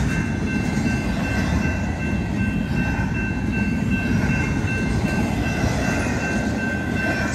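An empty BNSF freight train of barrel table cars with trailer cars, led by locomotive 5051, rolls past close by as a loud, steady rumble with continuous wheel and rail noise and a faint high squeal.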